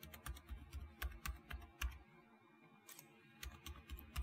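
A new password goes in on a computer keyboard as quiet, close key taps in quick runs, broken by a pause of about a second before the tapping picks up again. No voices are heard.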